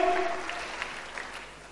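Church congregation applauding, a short burst of clapping that fades quickly, with a faint tonal note at the start.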